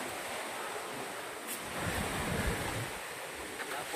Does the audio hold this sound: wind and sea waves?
yes